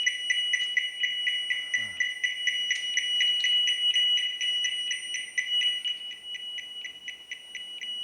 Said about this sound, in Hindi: ये अलार्म आता रहेगा आता रहेगा आता रहेगा जब तक ये की इसके अंदर नहीं चली जाएगी